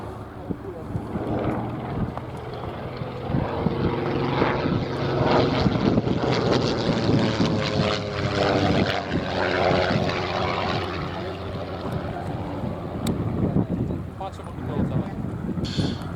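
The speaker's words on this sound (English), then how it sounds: "that third example was open cockpit and had a 220 horsepower Gypsy 6R engine" A vintage open-cockpit aeroplane with a 220 hp Gypsy 6R engine flies at the Shuttleworth airshow, a steady propeller drone rising and falling over about sixteen seconds, with a voice talking over it and wind buffeting the microphone.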